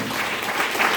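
Sustained audience applause at a Christian prayer skit performance, a dense and fairly loud wash of clapping that holds steady through the brief moment.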